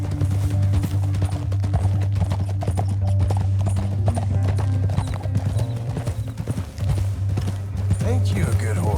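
Horse hooves clip-clop steadily on the ground in Red Dead Redemption 2, a brisk, continuous close gait that carries through the whole stretch under game voices and ambience.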